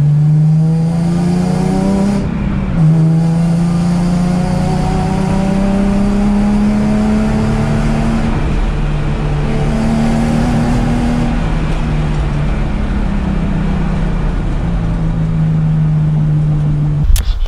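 A Nissan 350Z fitted with new coilovers drives along steadily, its engine humming and shifting pitch with a few gear changes, with continuous road and tyre noise underneath and no talk.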